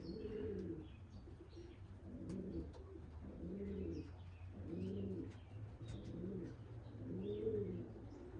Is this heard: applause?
no